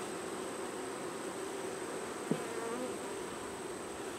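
Honey bees swarm and buzz at an open hive while being fed pollen, a steady, fairly close drone of many insects with a faint high whine above it and one brief knock partway through.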